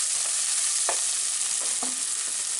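Translucent onions with seasoning sizzling in a pan for deep dish pizza sauce, a steady close hiss of frying with a few soft scrapes of stirring.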